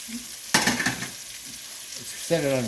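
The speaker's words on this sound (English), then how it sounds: "I'm going to drop another tablespoon of butter in there. I'm going to add our mushrooms and our onions." Mushrooms and onions frying in butter in a pan on a stove at medium-low heat, a soft steady sizzle broken by a sharp burst of crackling as they hit the pan, with a brief voice near the end.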